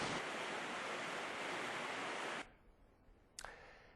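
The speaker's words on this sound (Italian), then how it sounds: "Sentite anche come la pioggia battente continua incessantemente a ricoprire il territorio" Heavy pouring rain in Chioggia, a dense, loud hiss that holds steady for over two seconds and then cuts off abruptly, followed by quieter background and a brief bump.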